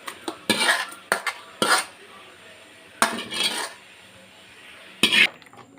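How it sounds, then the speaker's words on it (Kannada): Ground masala goes into a pot of sambar made with tomatoes and chilli: a metal spoon scrapes and clinks against the pot in several short, sharp bursts separated by quiet gaps. "ನೋಡಿ, ರುಬ್ಬಿಟ್ಟ ಮಸಾಲನ್ನು ಸೇರಿಸ್ತಿದ್ದೇನೆ."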